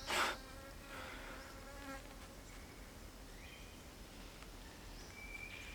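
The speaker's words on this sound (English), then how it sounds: "And of course mosquitoes." Mosquitoes buzz close by at a bushcraft campout in the woods: a thin, whining drone that is strongest in the first moments, then wavers on while birds call faintly in the background.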